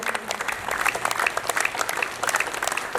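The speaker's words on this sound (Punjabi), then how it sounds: "ਤੇ ਤਾੜੀਆਂ ਮਾਰਤੀਆਂ" Audience clapping at a society gathering, a dense, steady burst of many hands applauding together that carries on without a break, fairly close and lively.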